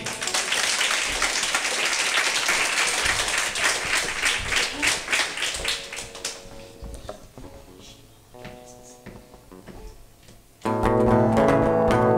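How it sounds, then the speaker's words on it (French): An audience at a secondary-school show claps loudly for about six seconds, the applause then fading as stage music takes over and swells loudly at the end. "On les applaudit."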